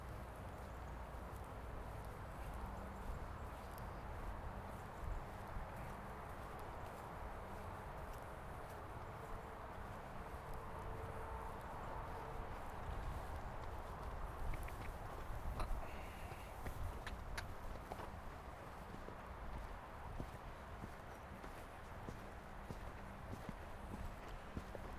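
A mare canters around a riding arena during jumping practice, her hoofbeats a faint, steady rhythmic thudding under continuous background noise.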